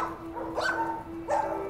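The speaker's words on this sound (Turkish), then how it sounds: "Merhaba Eren'in köpeği" A dog gives two short, sharp barks about a second apart, close by. A faint steady hum sits underneath, and nobody speaks.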